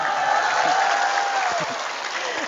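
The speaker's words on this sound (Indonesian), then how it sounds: "Tepuk tangan, tepuk tangan." An audience at a Ramadan gathering in West Lampung, Indonesia, applauds steadily, a dense wash of clapping hands that stays loud and even throughout.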